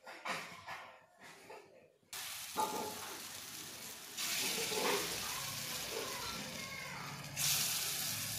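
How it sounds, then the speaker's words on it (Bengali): Raw banana fritters fry in a wok of hot oil, a dense hiss and sizzle that starts after a few soft bumps and keeps going, swelling louder near the end. "সবার প্রথমে আমি বড়াগুলো ভেজে নিব।"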